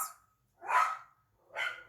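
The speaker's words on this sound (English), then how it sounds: "I'm sorry about the dogs barking in the background." Dogs bark in the background indoors, two separate loud barks spaced about a second apart with silence between.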